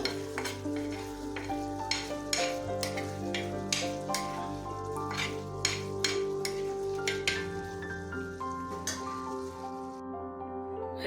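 A spatula scrapes cooked chicken liver off a hot iron tawa into another vessel: repeated sharp metallic scrapes and taps over a continuous sizzle and a low background hum.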